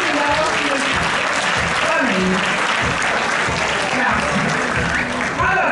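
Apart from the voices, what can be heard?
applause at a tournament award ceremony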